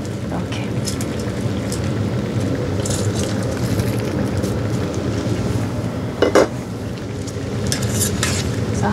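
Anchovies and radish being turned over in a pan with perilla oil and chili flakes for a braised side dish, with steady frying sizzle, scraping stirs and a few sharp clinks of the utensil against the pan.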